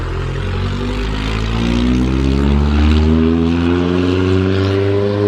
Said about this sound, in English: Ooh, noisy Volkswagen.